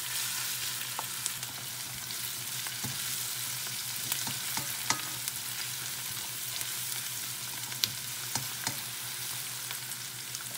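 Carrots and onions sauté in a pan for seafood sotanghon, giving a steady, close sizzle with a few sharp clicks of a utensil against the pan and no talking.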